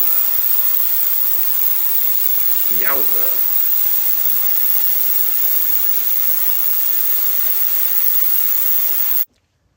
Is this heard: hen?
no